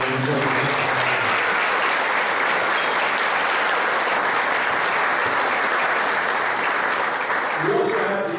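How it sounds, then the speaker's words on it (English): A crowd at a military reunion memorial brunch in Quantico, Virginia gives a long, loud, continuous round of applause, many hands clapping steadily, with a voice starting up over it just before it ends. "So how about a round of applause for the incredible."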